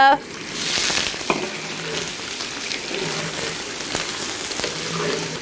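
Beef fries in hot oil in a large iron wok, giving a steady sizzle and crackle throughout with occasional sharper spits and stirring scrapes. The sound is moderately close and no one speaks.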